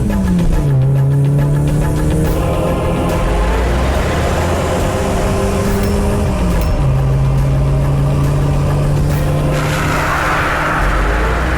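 A car engine running loud and close while driving, a continuous droning hum whose pitch steps down and then up again as it shifts, steady throughout with no voices.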